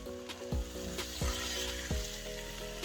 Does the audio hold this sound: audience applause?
no